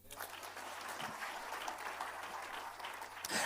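A church congregation at a Christian sermon claps steadily together, a sustained, fairly distant and quiet wash of many hands with no voices on top.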